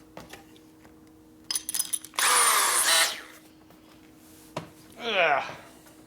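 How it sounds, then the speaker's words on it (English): A 3/8 reamer spun by a power drill into a Harley panhead part gives two loud whirring bursts, a long grinding one and a shorter one, with clicks and handling noises between, close up. "3/8 reamer."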